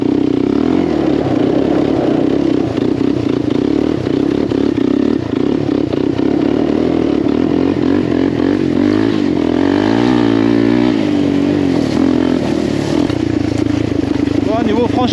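A Suzuki LTZ 400 quad's engine runs steadily throughout, a loud, continuous motor drone with some revving and clatter, while someone talks over it.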